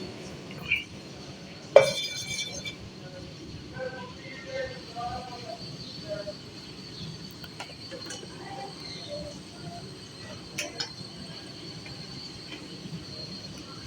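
A pan set down on a home kitchen stove while cooking pumpkin sabzi, a single sharp metallic clank near the start, then faint clinks, with someone talking throughout.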